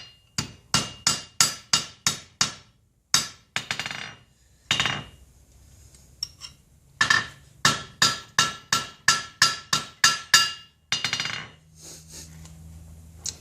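Repeated hammer blows on a silver ring bar being squared up at the forge, sharp ringing metallic strikes in quick bursts with short pauses between runs, loud and close with no talking.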